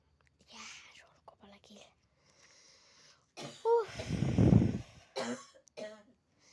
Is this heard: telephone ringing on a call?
no